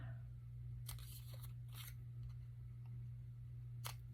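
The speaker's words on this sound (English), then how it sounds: "I'm going to snip the edges" Scissors snipping paper edges for a craft page, a handful of short crisp cuts in two small clusters and one last snip, faint and close over a steady low hum.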